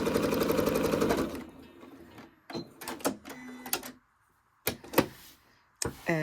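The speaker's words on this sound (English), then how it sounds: "I'm just going to sew close to the edge all the way across" A sewing machine stitches along the edge of a Halloween cushion cover, a loud close buzzing run of rapid stitches that stops, followed by a few short bursts and clicks.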